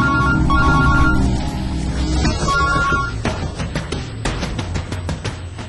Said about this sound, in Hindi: टेलीफोन की हर घंटी में अब उन्हें मौत की घंटी सुनाई देती है